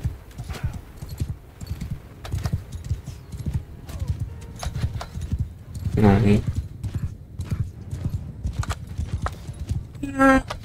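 Horse hooves clip-clop in a rapid, continuous rhythm during a castle campaign in Mount and Blade Bannerlord, with brief neighs breaking in near the middle and end and a player talking over it.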